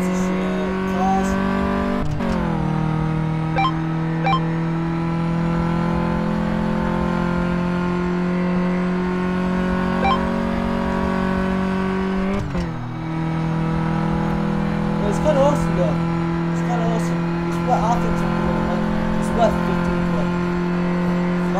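A car engine revs on the drag strip in Car Mechanic Simulator, a loud sustained droning roar that briefly dips and climbs again twice, as if shifting gears, with voices faintly present alongside.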